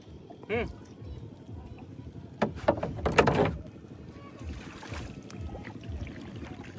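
Wooden rowboat moving on a wetland lake, with a cluster of oar knocks and water splashes in the middle while people talk nearby.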